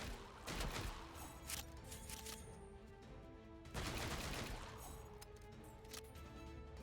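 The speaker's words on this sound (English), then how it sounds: "this like kind of rapid fire thing is very good" Rapid automatic gunfire from the first-person shooter roguelite Guns and Dragons, two dense bursts of fast repeated shots with crashing impacts, loud and continuous with game sound effects layered over it.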